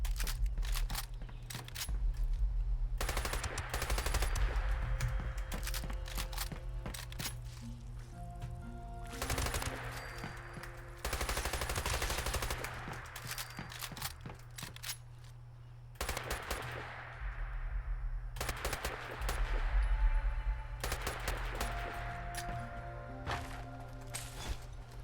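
A submachine gun fires in the survival game Rust in long sustained bursts with short pauses between them, loud and continuous and close up, with a steady hum in the background.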